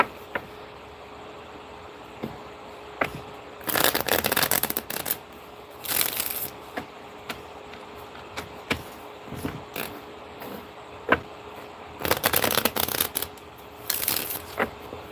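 Tarot cards being shuffled by hand, several bursts of riffling and flicking a few seconds apart, close and fairly loud over a faint steady hum, with no talk.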